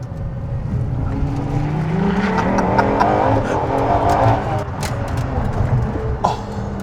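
Ferrari LaFerrari hybrid supercar with a 950bhp engine pulling hard under full acceleration, a loud steady engine roar with rising tones running throughout, close inside the cabin.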